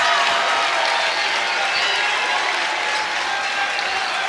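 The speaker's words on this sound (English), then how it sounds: "And the Tiger fans all standing on the other side, giving P.J. Carter a round of applause of appreciation." Crowd of basketball fans at a college game between Memphis and UConn in an arena, applauding loudly and steadily throughout, a dense wash of clapping and cheering with no clear voices on top.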